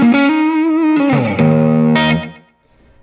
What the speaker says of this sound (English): I want a little more overdrive. I turn that up again,